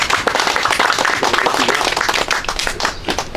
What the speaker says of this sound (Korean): 좋으면 좀 박수 좀 쳐주세요